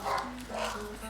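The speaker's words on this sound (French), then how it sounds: "Et les chiens ils me déstabilisent." Dogs bark and yip in the background, a few short muffled barks under a soft room hum, faint and somewhat distant while someone makes an album craft nearby.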